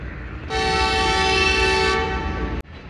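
The Sialkot Express sounds a long, loud, steady horn blast at the station that lasts about a second and a half and then fades, followed by a sharp metallic clank.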